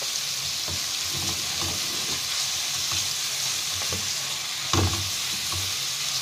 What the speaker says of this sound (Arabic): احنا بنشوح البصل بالطريقة دي بمعلقة زبدة او سمنة زي ما انت عايزة، ممكن زيت عادي جدا